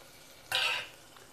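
Chopped tomato and green chillies dropped into hot oil in a pan for beetroot rice give a single short, bright sizzle that flares up suddenly and then fades within a fraction of a second.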